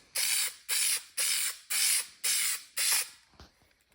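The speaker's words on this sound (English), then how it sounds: "Now I'm just going to shake it up and spray it with a couple of coats." Aerosol spray adhesive applied to Ford Focus ST car upholstery, six short hissing bursts in quick, even succession, close and crisp, followed by a faint rattle.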